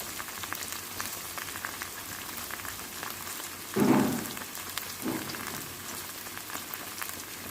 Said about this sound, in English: Now I like to fry my saltfish first, because it just makes it taste better to me.